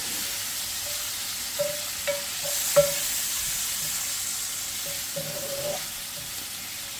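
Bacon frying in olive oil, stirred constantly, with a soft steady sizzle broken by a few light scrapes and clicks of the utensil against the pan.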